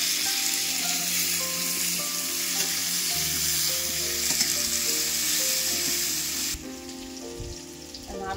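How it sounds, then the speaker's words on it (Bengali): Potato pieces seasoned with salt and turmeric sizzle steadily in hot oil, a continuous close frying hiss with occasional stirring and no voices. "আলুগুলো আমি লাল লাল করে ভেজে নেব।"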